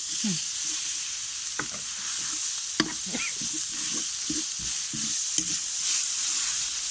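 Herbal frog stir-fried in a hot pan, with steady sizzling and repeated scraping clacks of a utensil stirring against the metal, close and fairly loud, with no voices.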